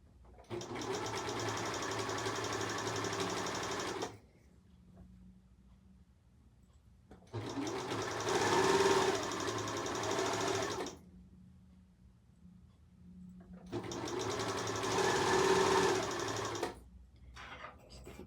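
A sewing machine stitches around a garment along a chalk line in three long, steady bursts, each a few seconds long, with quiet pauses between them and no talking.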